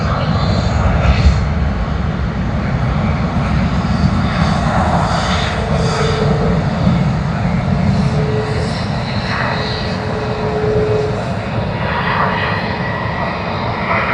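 An airliner in oneworld livery departing Sydney Airport for Bengaluru, India, a loud continuous engine roar with a broad rumble and faint passing tonal sweeps, with no voices.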